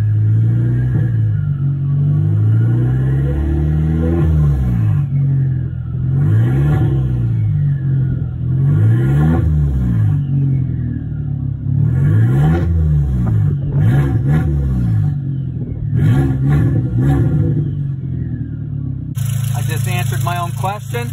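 VW Passat B5 with a 1.8T turbo engine warming up, revved repeatedly in loud, rhythmic swells over a rumbling idle, close by, with a brief harsher burst near the end.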